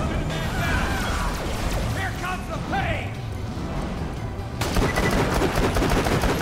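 Rapid gunfire in the shooter game Borderlands crackles in dense, loud bursts that build into near-continuous automatic fire, mixed with game effects and voices talking over it.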